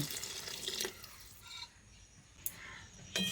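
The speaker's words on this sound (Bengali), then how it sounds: "এবার এর মধ্যে পরিমাণ মতো জল দিয়ে দিচ্ছি" Water poured into a pot of moong dal with ridge gourd, a short splashing pour followed by quieter trickles and a couple of sharp clinks, no talking.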